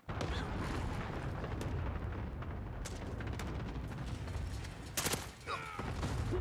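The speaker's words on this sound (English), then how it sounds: "Enemy cruise missile incoming." Call of Duty cruise missile strike in a building battle: a loud, sustained roar of explosion and gunfire rumble filling the whole stretch, with sharp cracks near the end.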